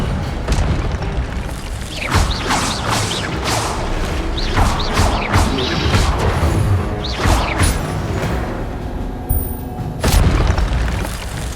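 Incendio fire spell explosion in the Hogwarts Legacy video game, loud booming bursts and crackling blasts in rapid succession over a dense, continuous rumble of game combat effects.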